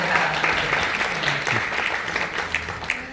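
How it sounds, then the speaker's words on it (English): An audience at a women's summit keynote claps in a sustained, dense burst of applause that fills the room for a few seconds. "So let's give her applause here."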